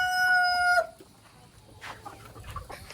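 Chickens on a farm, with a loud rooster crow up close at the start, followed by softer scattered clucking.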